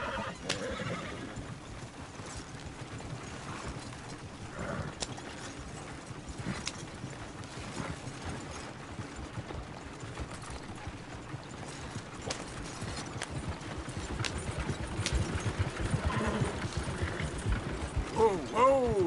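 Horse hooves clip-clop steadily while the horse is ridden out through trees, with occasional whinnies, creaking tack and people talking nearby throughout.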